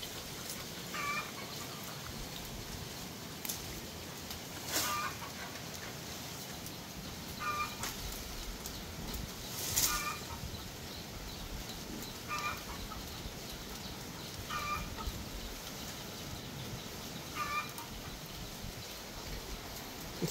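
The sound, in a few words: chickens clucking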